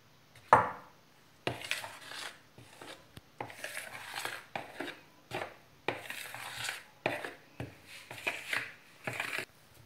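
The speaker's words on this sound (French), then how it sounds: "Je commence à mélanger ma pâte" Burger bun dough mixed by hand in a bowl, producing a series of irregular squelching, rubbing bursts with brief pauses between strokes, close and fairly quiet.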